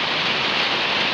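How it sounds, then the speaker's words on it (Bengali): Heavy rain pouring down outdoors, a dense, steady hiss that stays loud and even throughout, with no voices. "আমরা আসার সাথে সাথে প্রচন্ড বৃষ্টি নামছে।"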